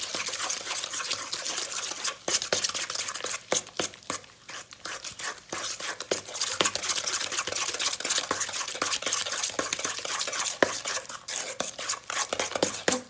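Butter mixture for dark chocolate, almond and orange biscotti creamed by hand in a bowl, a steady close scraping and stirring with small clinks, continuous throughout with no talk.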